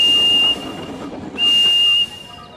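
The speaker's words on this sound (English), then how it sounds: "I'm sure everybody knows my whistle." A steam engine whistle in the video game Thomas & Friends: Trouble on the Tracks sounds twice as a sustained high tone, first for about half a second, then a louder second blast, over a busy background of game music and effects.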